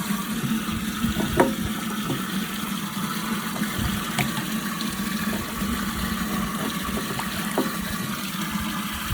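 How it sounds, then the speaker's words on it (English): Water runs steadily into a portable livestock watering tank on a grazing dairy, a constant churning rush with a low pump-like rumble beneath, outdoors and close, with no talk. "Cap's on, tank's filling."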